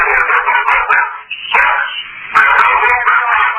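A dog barks repeatedly in short, loud bursts close by, with a brief lull midway before more barking, while people talk in the background.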